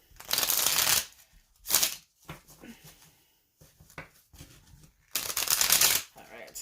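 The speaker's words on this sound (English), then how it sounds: "Let's see how we shuffle." A mini steampunk tarot card deck being shuffled in three bursts of rapid riffling flutter, close and loud, separated by quieter handling noises and soft card taps.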